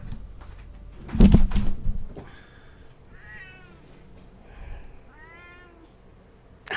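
A pet cat near a computer gives two soft, drawn-out meows a second or so apart, fairly faint and close by, after a brief loud thump and rustle.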